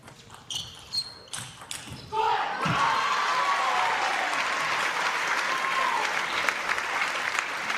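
Crowd applause erupts at a table tennis quarter-final at the Europe Top 16 2022, following a few sharp ball strikes. The clapping becomes loud and sustained, and voices are mixed in.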